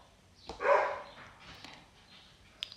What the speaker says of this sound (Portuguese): 3 cachorros barulhentos.